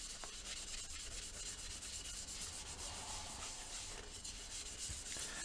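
Steady, continuous rubbing of a green kitchen scourer pad over a lacquer coat on a turned pear wood vase, a dry, even abrasive hiss with no speech.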